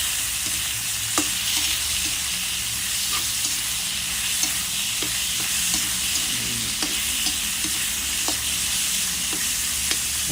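Pork sizzles steadily in hot oil with garlic while it fries golden brown for chop suey, a close, constant crackle with occasional stirring clicks and scrapes.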